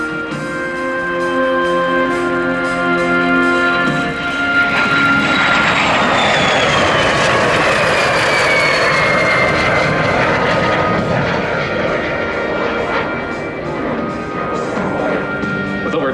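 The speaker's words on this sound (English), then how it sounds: "Another high-speed, low-altitude pass by the Vampire." A de Havilland DH-115 Vampire jet makes a high-speed, low-altitude pass at an air show, a loud, sustained roaring whine that swells and sweeps in pitch as it passes close overhead.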